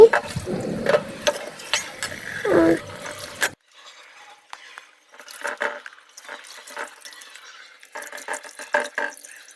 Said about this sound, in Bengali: সুন্দর করে আমি ধুয়ে নিচ্ছি